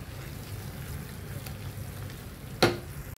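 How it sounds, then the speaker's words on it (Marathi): Masala gravy with garam masala, coriander powder, Kashmiri red chilli, turmeric and cumin powder sautéing in a pan: a steady close sizzle and frying hiss, with one brief louder scrape near the end before it cuts off. "चांगला परतूया आता याला"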